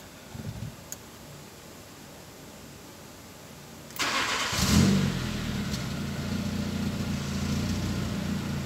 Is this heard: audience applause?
no